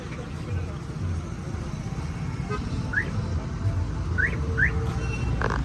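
Busy road traffic on the way home from a crowded Mahashivratri fair, a steady rumble of vehicles with several short horn toots, all fairly close.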